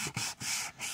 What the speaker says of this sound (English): So as you're sanding, you're putting your hands over this to make sure it all feels the same.